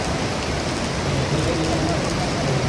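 Dense, steady hiss of heavy rain pouring down by the Cali River in Colombia, with a faint voice murmuring beneath the downpour.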